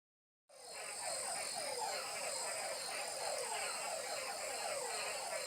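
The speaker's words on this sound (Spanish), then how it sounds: "son ranas que grabé en el bajo atrato" Frogs recorded in the Bajo Atrato croak in a steady, fast, rhythmic chorus that starts abruptly and carries on unbroken over a dense bed of high-pitched night insect or frog trilling.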